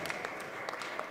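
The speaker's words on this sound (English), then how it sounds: "Keep clapping" Audience clapping at a lecture-style gathering, a continuous wash of hands with a few distinct sharp claps, brief and fairly quiet.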